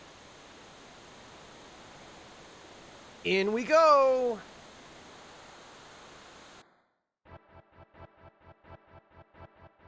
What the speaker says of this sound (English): you can hear the flowing water of the Serpent Trench before you actually get to the waterfall